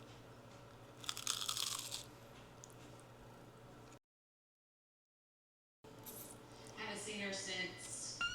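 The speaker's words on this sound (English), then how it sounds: "I was craving something crunchy, so we got some egg rolls." Loud crunching bites into crispy egg rolls, a burst of crackling crunch followed later by more chewing crunches after a short silent gap.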